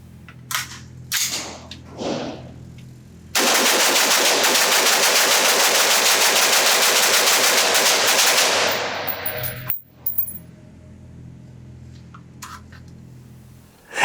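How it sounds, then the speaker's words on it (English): An LMT (Lewis Machine & Tool) New Zealand Reference Rifle fires a rapid mag dump on a range, a dense, loud string of shots lasting about six seconds after a few single reports, followed by a couple of faint clicks. "let me put a mag through this thing, just mag dump it, see how fast I can shoot it"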